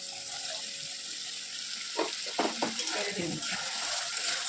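Fried potato pieces tumble into a pot of simmering egg curry, a few soft plops and stirring clatters over a constant bubbling sizzle, with faint talk in the background.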